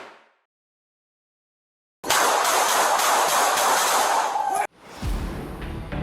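A subway train at the Sutter Avenue L train station in Brooklyn, a loud rushing rumble with rattling that starts abruptly, holds for a couple of seconds, then cuts to a lower, hollower roar.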